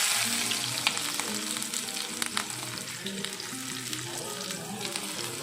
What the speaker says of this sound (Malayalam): ഈ അരിഞ്ഞു വെച്ച വെളുത്തുള്ളി, ചെറിയ ഉള്ളി, ഇഞ്ചി, പച്ചമുളക് ഇത് നമ്മൾ ഇതിലോട്ട് ഇട്ട് ഇനി ഇതൊന്ന് നല്ലോണം വഴറ്റി കൊടുക്കാം